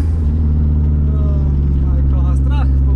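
Lancia Delta Integrale HF Evo1 with four-wheel drive pulling away from a launch, its engine a loud, steady low drone heard up close from inside throughout, with voices talking over it toward the end.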